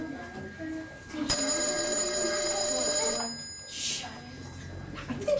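An old-fashioned telephone bell rings loudly in one long, sustained burst, then falls silent, with quieter speech and room noise around it.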